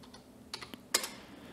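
Typing the word python on a computer keyboard at a command prompt: a few quiet, sparse keystroke clicks, with one slightly louder tap near the middle, alone with no talking.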